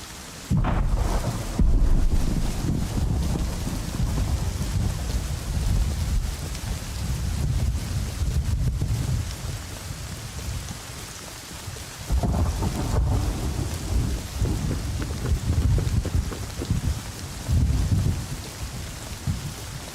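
Heavy rain and a thunderstorm in the survival game Rust: steady downpour hiss with deep rolling thunder booms that fade and return, loud and close, with no speech.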